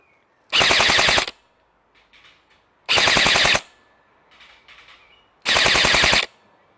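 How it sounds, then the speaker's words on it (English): Specna Arms Edge SA-E14 airsoft rifle firing three loud, close full-auto bursts of rapid buzzing shots, each lasting under a second, with quiet gaps of faint background noise between them. "let's try some full auto, see how we do."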